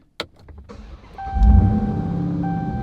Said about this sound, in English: about to start the car up the next day